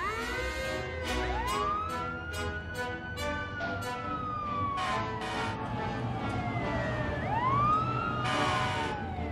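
Animated fire engine racing out on an emergency call, its wailing siren sweeping up and down repeatedly, loud and continuous over a bustling background with bright chiming accents.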